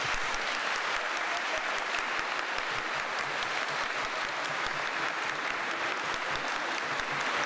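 Sustained applause fills an audience hall at a French literary awards evening for crime fiction pleadings, steady and dense throughout with no break, with a faint voice or two barely present beneath the clapping.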